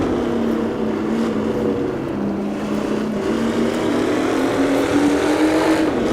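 A modernized 1960s-style formula race car in Assetto Corsa drops down the gears under braking, its loud engine note falling and blipping as it shifts down to third and then second.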